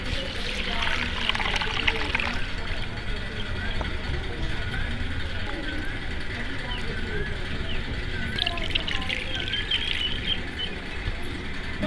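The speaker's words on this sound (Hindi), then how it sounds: "उतनी देर में हम दाल को अच्छी तरह पानी से धो लेंगे।" Lentils (dal) being washed with water in a village kitchen: continuous trickling, sloshing water heard up close, with steady splashes running throughout.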